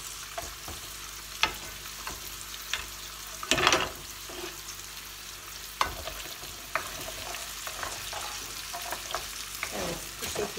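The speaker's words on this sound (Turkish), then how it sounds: "Kuşbaşı etimizi de biraz yağda kavuracağım." Diced lamb frying in olive oil in a pan, a steady sizzle broken by clattering stirs and scrapes, with no one talking.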